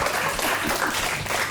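Loud, dense audience applause bursts out close by, a steady wash of many hands clapping that fills the brief moment.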